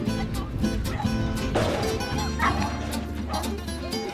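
A dog barking repeatedly during an agility session, several sharp close yaps and yips in an irregular rhythm, with people's voices and background activity mixed underneath.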